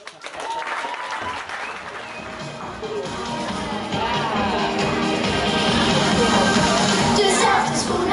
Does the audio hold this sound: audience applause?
yes